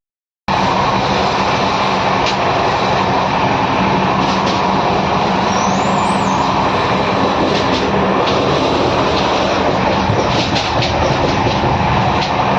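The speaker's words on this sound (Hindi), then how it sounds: "तो ट्रेन अपने स्पीड से कम से कम 110 किलोमीटर की रफ्तार से चल रही है" The Shatabdi Express from Bhopal to Gwalior runs at about 110 km/h, heard from inside as a loud, steady roar of rushing wheels and rails with faint periodic clacks throughout.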